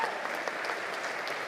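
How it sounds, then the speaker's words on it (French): An audience at a festive Baptist congress evening claps in steady, dense applause, continuous and moderately loud for the whole stretch with no voices on top. "on l'applaudit aussi"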